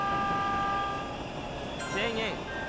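A Yamanote Line electric commuter train's steady hum and rumble in the Densha de Go! video game, with a brief electronic tone near the end; no voices.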